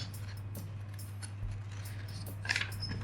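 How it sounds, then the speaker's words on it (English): Scissors snipping paper for a panda craft, several soft close cuts over a low steady hum, with a crisper cluster of snips near the end. "And then you can cut up to the circle, and then you can cut all the way"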